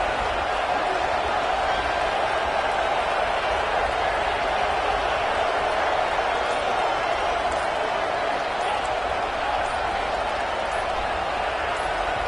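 A loud, steady roar of a stadium crowd at a football game, dense and continuous throughout, with voices and cheering blended into one unbroken wash of noise.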